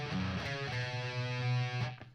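Electric guitar plays a fast chugging fragment of a riff, a dense run of distorted picked notes over a steady low drone, close and fairly loud, then cutting off abruptly.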